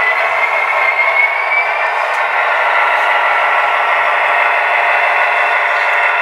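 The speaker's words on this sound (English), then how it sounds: "I'm going to be using my Union Pacific 1989 Heritage unit. And basically it's just going to be showing you how smooth the ride is over the top of my feeder." Union Pacific 1989 Heritage model locomotive running smoothly over track feeder joints, a close, steady whirring rumble with faint rail clicks and no pauses.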